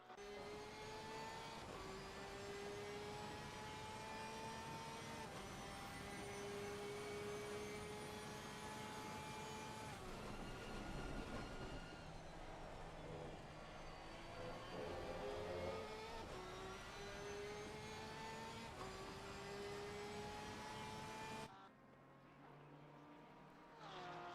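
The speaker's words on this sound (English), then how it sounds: "Full throttle Porsche 992." Onboard a Porsche 992 race car at full throttle on an Austrian circuit: a loud, steady, high-pitched engine howl rises and drops through gear shifts, then cuts off abruptly near the end.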